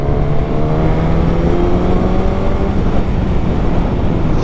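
A Suzuki GSX-S1000 motorcycle (2021, 152 hp) pulls hard under acceleration, a loud, steady engine drone with rising harmonic tones and heavy wind rush, close and continuous.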